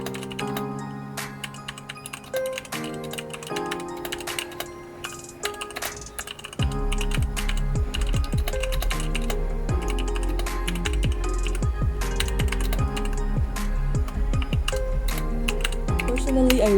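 Typing on a Redragon K617 Fizz compact mechanical keyboard fitted with added foam and new keycaps, a steady close stream of clacky keystrokes with a denser, louder run in the second half and no talking.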